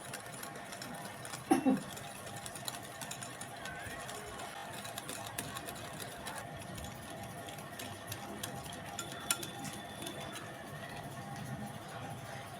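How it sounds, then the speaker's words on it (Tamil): Curd is mixed into creamed butter and sugar for a butter cake batter, a continuous mechanical whirr running evenly throughout, with one sharper clunk early on. "தயிர் போட்டு தயிர் மிக்ஸ் பண்ணுங்கள் நல்லா மிக்ஸ் ஆகணும்"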